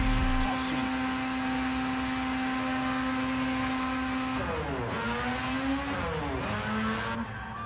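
Engine note of a Mazda RX-7 GT-X FC in Gran Turismo 7 on PS5, a steady high drone that shifts pitch and revs toward the end, loud and continuous with no talking.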